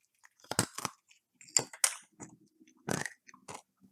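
Crunchy chewing of a chewy cookie made with afritada flavours, hotdog, potato and green peas, heard as several close, loud bursts of bites and crunches with short pauses between them.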